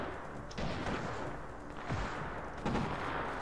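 Troops open fire in the war strategy game Sudden Strike Forever, a steady rumbling barrage of overlapping gunshots and heavy thumps, with louder bursts standing out and no talking.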